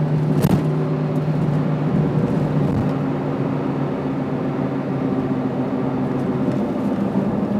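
A car driving on an ordinary road, with a steady engine hum and tire rumble heard from inside the cabin and no talking.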